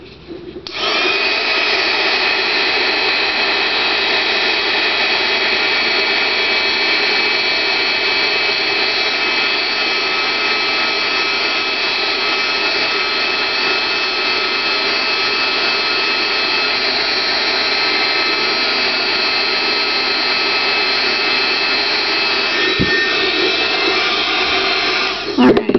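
Continuous high-pitched whirring blast of a drying tool held close while drying spray ink, loud and unbroken for the full length, ending with a brief click as it stops.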